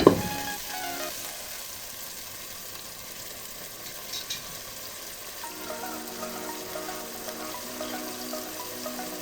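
Chopped tomatoes sautéing in a pan for Arabian chicken kabsa, a steady soft sizzle with occasional stirring scrapes running throughout, close and moderately quiet, with no talking.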